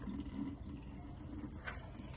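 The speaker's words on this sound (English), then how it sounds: "Rinse the beans off." Soaked beans rinsed under a running kitchen tap, a steady low splashing wash of water that continues evenly throughout, close and moderately quiet.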